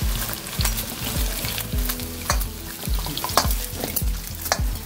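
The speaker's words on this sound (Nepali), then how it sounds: "त्यो लगभग हामी फोर मिनट चाहिँ, फोर टु फाइभ मिनट चाहिँ डिप फ्राई चाहिँ गर्छौँ।" Chicken deep frying in hot oil for chilli chicken gives a close, continuous sizzle and crackle, broken by repeated knocking as the pieces are stirred in the pan.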